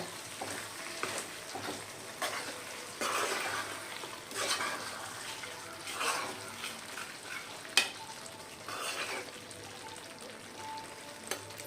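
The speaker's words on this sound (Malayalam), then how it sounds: "നന്നായിട്ടൊന്ന് ഇളക്കി കൊടുക്കട്ടെ" Squid roast (koonthal) frying in a pan with a spatula stirring through it, steady close sizzle broken by scraping strokes and occasional sharp clinks, no talk.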